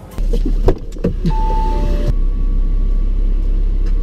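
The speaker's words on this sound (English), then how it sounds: "Okay, now the boot's shut." An Audi R8 V10 RWS powered boot lid motor whirs briefly with a steady whine as it closes, then stops, leaving a low, constant engine rumble in the background.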